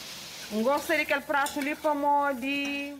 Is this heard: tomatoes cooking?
yes